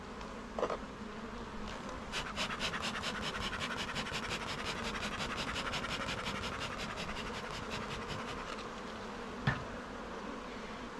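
Honey bees inside an opened hive make a soft, continuous buzzing hum with a gentle rhythmic flutter. Faint scraping knocks sound now and then, and no one speaks.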